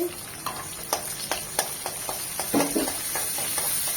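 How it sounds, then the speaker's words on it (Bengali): Chopped onion fries with garlic in soybean oil, a low continuous sizzle broken by intermittent stirring scrapes and taps, quiet and close with no talk. "এক মিনিট রসুনটা হওয়ার পর দিয়ে দেবো একটা বড় পেঁয়াজ কুচি"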